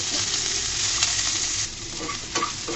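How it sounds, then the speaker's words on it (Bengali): Dried onions and garlic sizzle steadily in a hot pan, with a dense crackling hiss and occasional scraping stirs, close and continuous. "এই পর্যায়ে বন্ধুরা শুকনো পেঁয়াজ রসুনগুলো ভেজে নিব"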